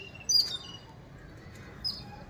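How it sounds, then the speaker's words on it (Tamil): Sparrows chirp near a nest built in a garden amid vegetable plants, giving two brief faint calls, one early and one near the end, over quiet background. "அந்த குருவி பாருங்கள் ஒன்று தானே சத்தம் போட்டுச்சு அது சத்தம் போட்ட உடனே அவங்க ஃப்ரெண்ட்ஸ் எல்லாம் வந்தாச்சு பாருங்கள்"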